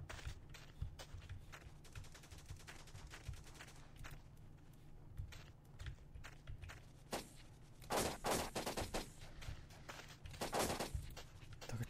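Gunfire in the blocky online shooter Blokpost, a steady stream of rapid shots with footsteps between bursts, heavier volleys breaking out near the end.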